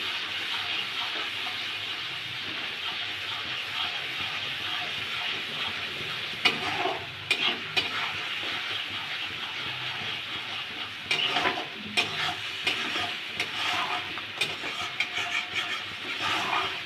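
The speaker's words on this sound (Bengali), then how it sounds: "2 চামচ টক দই, দিয়ে এগুলো আমি সব ভালোভাবে কষিয়ে নেব।" Spices and two spoons of sour yogurt stir-fried in a pan for a potato and prawn curry, a steady soft sizzle with scraping spoon strokes and occasional louder clatters, no voices.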